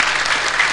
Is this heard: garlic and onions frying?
no